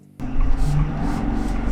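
A 2023 Ford Super Duty Lariat with the high-output Powerstroke diesel engine drives off, a steady low engine rumble with road noise kicking in suddenly and holding loud and close.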